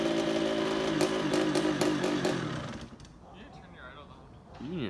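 A dirt bike engine running premix fuel buzzes loudly with a steady harmonic drone for about three seconds, then drops to a low rumble before rising again, with voices nearby.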